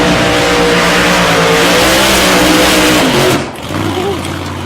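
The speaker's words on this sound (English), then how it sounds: "You'll hear it burn out now." A quick little drag racing car doing a roll-through burnout, a loud sustained engine roar with tire noise that fades out near the end, heard from the track side.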